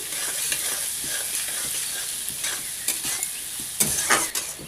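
Onions fry in oil toward golden brown, making a steady close sizzle with occasional stirring scrapes that grow louder and more frequent near the end.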